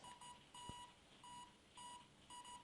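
Faint, steady electronic beeps from metal detector headphones repeat in short evenly spaced bursts over a quiet hiss, with one soft click partway through.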